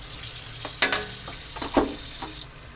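Tomatoes frying in a pan for ghee rice with bhaji: a steady low sizzle with a few sharper spits and crackles rising over it, close and alone.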